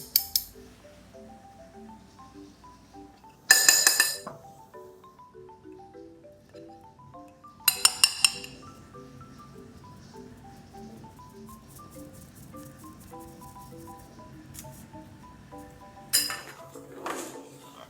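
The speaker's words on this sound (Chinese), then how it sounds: "中筋面粉加入盐，还有泡打粉，先稍微的搅拌均匀，然后过筛" Flour, salt and baking powder are stirred together in a bowl for brownie crinkle cookies and then sifted, giving soft scraping and rustling with a few sharp clinks of utensil against bowl, all under quiet background music.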